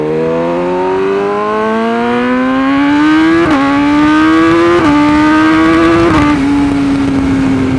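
BMW S1000R motorcycle engine revving hard and accelerating, pitch climbing steadily with brief dips at each gear change, loud and close, no talking.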